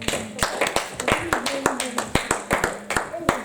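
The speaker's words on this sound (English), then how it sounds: "Clap your hands." A church congregation at a prayer meeting claps hands in a quick, uneven rhythm of sharp, close claps, with voices singing or speaking underneath.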